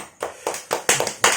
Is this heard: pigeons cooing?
no